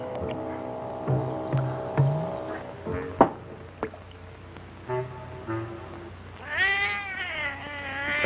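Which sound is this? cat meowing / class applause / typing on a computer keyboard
cat meowing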